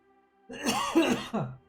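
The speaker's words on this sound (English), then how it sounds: "Sorry, I got a cough." A single rough cough with a throat-clearing quality, close and fairly loud, breaking into two quick bursts before fading to silence.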